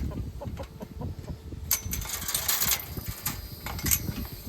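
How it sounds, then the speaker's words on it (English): Backyard hens clucking softly and scratching around as they come out for a treat, several close murmuring calls scattered over steady ground rustle. "Hey chickens,"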